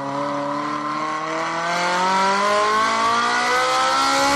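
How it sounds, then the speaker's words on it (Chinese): A Jaguar F-Type R75 supercharged V8 engine revs hard and climbs steadily in pitch across a few seconds, loud and close with no talking. "其实你听 V8 的高转速跟 S2000 高转速其实是一样的。"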